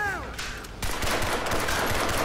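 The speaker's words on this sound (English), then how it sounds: "I think he shot all around me." Rapid bursts of gunfire in Crysis 3 Hunter Mode, a dense crackling fusillade that erupts suddenly and continues loud and sustained.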